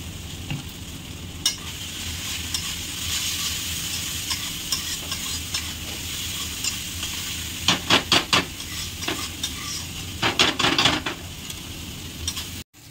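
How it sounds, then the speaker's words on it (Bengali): Spice masala with turmeric sautés in oil with potatoes for a fish curry, hissing in a continuous sizzle. Several sharp bursts of spatula scraping and stirring come near the end. "মশলাটা আমার কষানো হয়ে গেছে, তেলটা ছেড়ে দিয়েছে কত সুন্দরভাবে"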